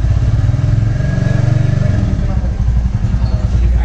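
A Royal Enfield Classic 350 single-cylinder engine idles nearby with a steady, loud thumping beat that holds throughout, while someone talks over it.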